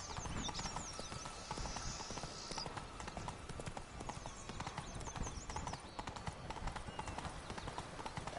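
Galloping horse hooves in the video game The Witcher 3: Blood and Wine, a fast continuous clip-clop rhythm close and steady throughout, with a brief whinny-like cry early on.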